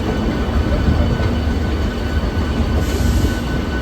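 A Howrah to Haldia local train running, with a loud, steady rumble of wheels and carriage noise throughout and a faint squeal near the end.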